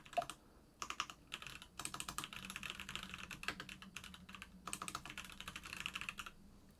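Fast typing on an IF98 mechanical keyboard, crisp close key clicks coming in quick bursts separated by short pauses, quiet overall with no talk.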